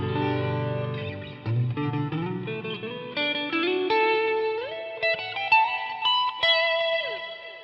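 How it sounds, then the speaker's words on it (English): Distorted electric guitar notes climb and shift in short phrases through a HeadRush processor with reverb on, each ringing out with a wash of reverb and echo. "this is how it sounds on with the reverb"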